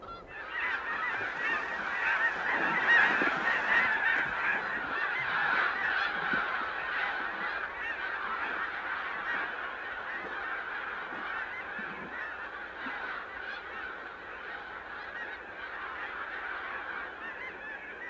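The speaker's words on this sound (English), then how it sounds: "Magnificent flocks of ducks and geese are a thrilling sight at both" A large flock of geese honks continuously at the Blackwater wildlife refuge, a dense, overlapping chorus of calls that stays fairly loud and steady throughout, with no voices.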